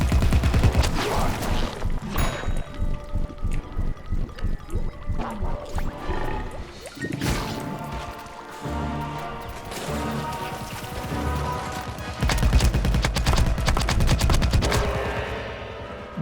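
Loud, rapid video game gunfire fills the stretch: fast automatic bursts with dense repeated shots, some pauses, then heavy booming fire near the end, with no talking.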